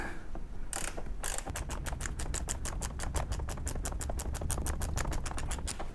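Ratchet wrench clicking rapidly and steadily as it tightens the final bolt on 5th gen Camaro SS seats with custom upholstery, a long run of close, even clicks after a few initial turns.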